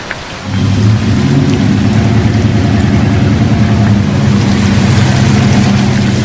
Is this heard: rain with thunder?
yes